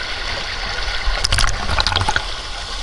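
Cold stream water flowing at a bathing spot on the Agasthiyarkoodam trek, a steady rushing wash with brief splashes and gurgles in the middle, close and continuous, no talking.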